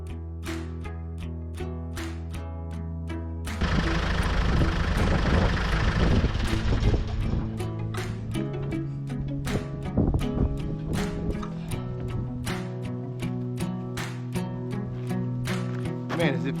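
A 550 tractor engine runs on a farm in winter, a steady low idling rumble that swells into a louder rough roar partway through, with a person talking over it.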